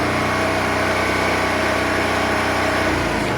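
A Honda Varadero 125 being rebuilt as a street fighter, with electrical faults and still not running normally, idles steadily and loudly up close in a continuous buzzing drone.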